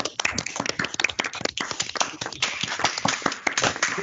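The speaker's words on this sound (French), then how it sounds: "vous proposons de tous ouvrir vos micros et d'applaudir pour remercier et féliciter les" Several people clap over open microphones on an online call, giving uneven, overlapping bursts of handclaps that sound close and slightly compressed, continuing steadily for a few seconds.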